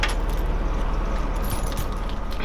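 Car keys jangle close up in a garage during work on a Lexus IS300 engine swap, a brief continuous metallic rattle with a faint low rumble beneath.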